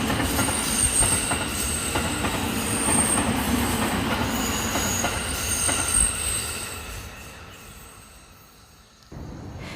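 A steam train on a colonial-era railway in Java rumbles steadily along the rails with a high metallic squeal from the wheels, fading somewhat toward the end. No voices.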